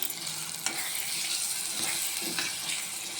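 Onions with ginger-garlic paste sizzle steadily in a pan, a soft close hiss broken by a few scrapes and clinks of stirring, with no voice.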